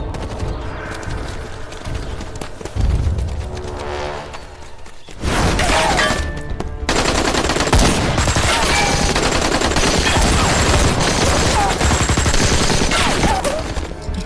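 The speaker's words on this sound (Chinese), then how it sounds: "邱部长，矿场那边好像有枪声" Bursts of machine gun fire ring out near a mine in a wartime battle scene, loud rapid volleys and sharp shots running almost continuously after a brief lull, with cracking, shattering impacts mixed in.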